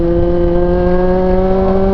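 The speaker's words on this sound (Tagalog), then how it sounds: "pa mapapag-throttle ng todo ito" Vehicle engine held at steady heavy throttle while climbing a steep, sharply curving mountain road near Nasugbu, Batangas, a loud continuous drone with strong steady harmonics, close to the listener.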